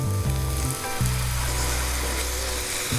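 Worcestershire sauce hits a hot flour roux and sets off a loud, close sizzle that stays continuous for a few seconds, with a brief stirring scrape under it.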